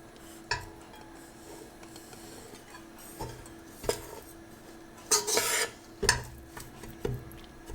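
Magaj gram-flour powder stirred in melted ghee in a pan for methi pak, heard as sparse scraping and clinking of a spoon against the metal pan with a few sharper knocks, close but fairly quiet, no talk.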